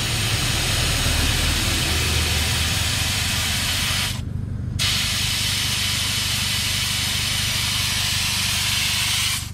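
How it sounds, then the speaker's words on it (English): A portable air compressor runs while pumping up car tyres on a beach, a loud continuous rushing hiss that briefly drops out near the midpoint before resuming, with no speech. "Just a little pumping back up again because the air compressor overheats because of the hot weather."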